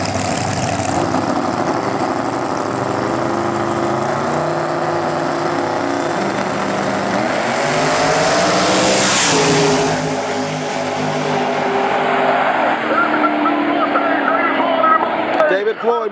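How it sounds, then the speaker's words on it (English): Drag race between a ProCharger supercharged Mustang and a nitrous-assisted big-block car, loud sustained engine roar rising and sweeping past with a swell in the middle, over a commentator's talk. "we got the pro charger of Brian Anderson versus the nitrous aided big block of the Slider Boys"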